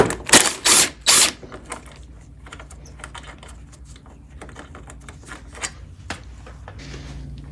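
Three loud bursts of ratcheting clicks open the sound as a ratchet with a 10mm socket works a bolt free on a 2022–2023 Honda Civic. Fainter scattered clicks and light handling noise follow.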